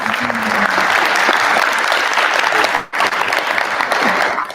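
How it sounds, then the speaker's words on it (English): Audience applause at a professionals' town hall, a loud sustained wash of clapping that briefly dips near the end before resuming, with no talk over it. "Let's give them a round of applause."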